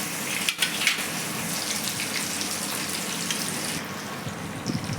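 Marinated fish pieces fry in hot oil with a steady, dense hiss and crackle, loud and unbroken, with a few faint clicks near the start and end.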